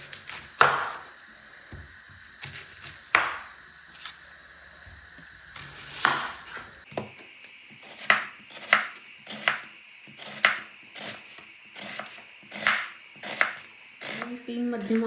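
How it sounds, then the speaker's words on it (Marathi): Two large onions sliced lengthwise with a knife on a cutting board: crisp, separate chops, a few scattered at first, then a steady rhythm of close, loud strokes with no talking. "आपण हे आता उभे चिरून घेऊया"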